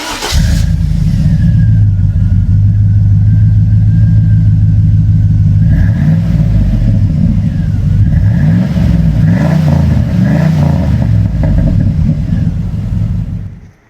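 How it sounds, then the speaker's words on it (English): Deep V8 rumble from the aftermarket exhaust of a 1999 Chevy Tahoe 4x4, held at a steady rev before rising and falling in several throttle blips, loud and close with no talking. "we have a really nice sounding exhaust that brings that V8 to life"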